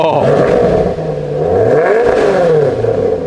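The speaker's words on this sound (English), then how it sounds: "go ahead and start it up so we can hear this thing bark" A Maserati Quattroporte Sport GTS with a V8 engine barks and revs loudly nearby, its pitch rising and falling in several throttle blips. People speak over the engine.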